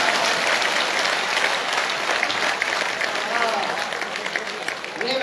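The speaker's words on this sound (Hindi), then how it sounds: "ताली बजाओगे कि हाथ यहीं रखूं?" Sustained audience applause fills a live Hindi comic poetry gathering in Rudrapur, a dense, steady wash of clapping that holds loud throughout and thins slightly near the end, with no voice over it.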